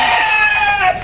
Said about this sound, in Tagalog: Manok na nabili natin sa Red Game Farm.